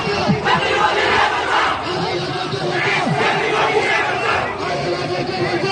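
A large protest crowd in Nepal roars and shouts continuously, many voices blending into a dense, loud wall of yelling with rising bursts of cries, close and sustained throughout.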